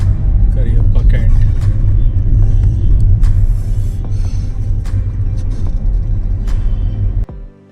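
Idling car and vehicle engines rumble steadily in a heavy traffic jam on a road near the Mahakumbh Mela 2025 grounds at Prayagraj, with horn-like blips and someone talking over the low, continuous drone.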